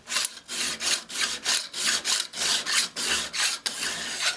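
A hand file is drawn repeatedly across the top edge of a steel card scraper held in a 90-degree jig, flattening it. There are about ten even rasping strokes in a steady rhythm, close and alone.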